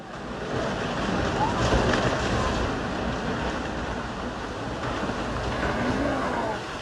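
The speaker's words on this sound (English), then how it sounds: "a torrent of water from the mountains above topples trees like dominoes" The flooding Mendenhall River rushes as a roaring torrent of mountain water, a dense, steady wash of noise that stays loud throughout, with a narrator's voice partly underneath.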